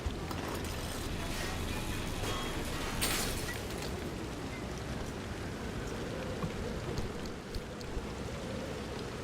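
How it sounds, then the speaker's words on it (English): Steady rain in the video game Pacific Drive pours down as a dense, continuous hiss and patter with scattered sharp drips and a low rumble underneath. "Glad it's raining though."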